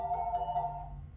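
A shop telephone at a store rings with a steady electronic tone pulsing in short bursts, then fading, heard close in a quiet room.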